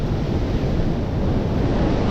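Surf rolls onto a beach in the south of Fuerteventura, a dense, steady wash of breaking waves heard up close, with wind buffeting the microphone and no voices.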